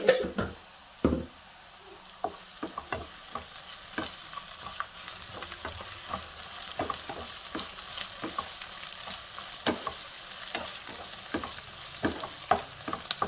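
Bitter gourd curry frying in a pan with ginger garlic paste, a soft steady sizzle broken by frequent sharp scrapes and knocks of a spoon stirring, close up and without talk.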